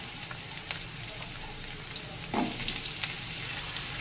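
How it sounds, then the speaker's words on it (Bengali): Diced potatoes and onions fry in a pan with five-spice seeds, a steady close sizzle with occasional scrape and stir clatter, and no voices. "আলুটা একটু ভেজে নেব"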